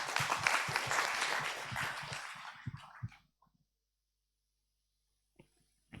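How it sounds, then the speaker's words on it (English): Audience applause at a disaster management symposium closing session: a dense burst of clapping that thins to a few scattered claps and dies away into near silence, with a faint sound or two afterward. "So please give a big round of applause."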